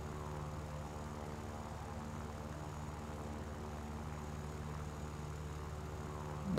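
A damaged fighter plane flies in War Thunder, its engine a steady, even drone with a low rumbling hum that holds at a constant level throughout, with no voices.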